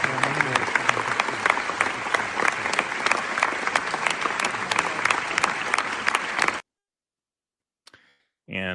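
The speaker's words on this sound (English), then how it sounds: "here's some footage from the ovation" A standing ovation for the Hind Rajab film, with dense, crisp applause and sharp individual claps, breaks off abruptly into silence, followed by a brief faint sound near the end.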